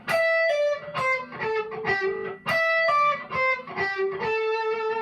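A distorted electric guitar plays a loud phrase of sustained notes, with some pitches bent upward and sliding into place.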